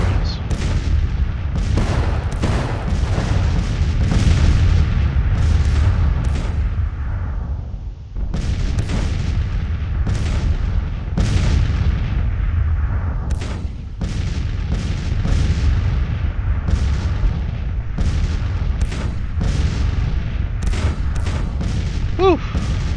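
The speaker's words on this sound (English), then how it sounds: "That artillery unit would pound the crap out of us. In fact, they're advancing on us." Artillery booms again and again in Grand Tactician: The Civil War, with heavy cannon reports and rumbling volleys arriving irregularly over a constant low battle roar. Some shots are close and sharp, others more distant.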